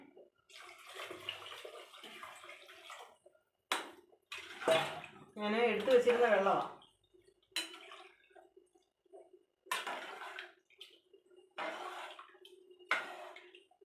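Water splashes in short bursts while a pot is filled for tomato rice, three glasses of water to three of rice with salt, alongside a speaking voice.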